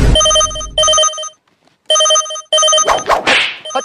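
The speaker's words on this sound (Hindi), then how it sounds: "केकर फोन आ रहलु" A telephone ringtone sounds in loud, repeated electronic bursts, about three rings with a pause between, followed by a rustling, clattering handling noise.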